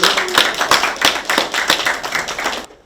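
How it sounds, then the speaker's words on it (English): Rhythmic, fairly loud group clapping at a town hall meeting in Beulaville, with sharp regular beats repeating steadily before stopping abruptly near the end. "Let me get a big round of applause."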